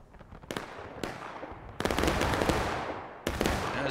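Musket volleys from a Civil War battle in War of Rights: sharp gunshot cracks ring out at irregular intervals, then a dense burst of overlapping fire swells into a rolling fusillade, followed by another loud crack.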